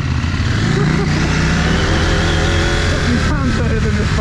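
An off-road adventure motorcycle engine labors up a hill on a rough trail. It gives a loud, close, continuous growl with shifting pitch and some wind noise, and muffled voices can be heard over it.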